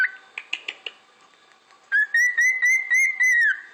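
A pet cockatiel first gives a few short, bright chirps, then breaks into a sustained, clear whistled phrase of repeated pulsing notes, close and loud with no talking.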